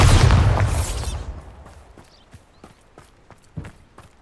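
A Bombarda blasting spell in Hogwarts Legacy goes off as one loud, booming burst that fades over about a second. Sparse footsteps follow, with a sharper knock near the end.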